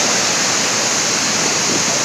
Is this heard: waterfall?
yes